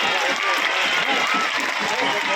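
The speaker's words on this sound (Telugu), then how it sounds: "చక్కగా గట్టిగా చప్పట్లు కొట్టాలి" A crowd claps loudly and steadily, a dense burst of applause with voices mixed in.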